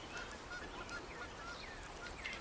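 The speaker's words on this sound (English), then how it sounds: "Is there a bird here? Partridge?" Bird calls in the survival game Card Survival: Fantasy Forest, a few faint honking, fowl-like cries over a steady ambient forest background, with no talking.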